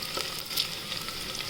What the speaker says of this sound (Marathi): कांदा थोडा तेलात परतून घ्यायचा.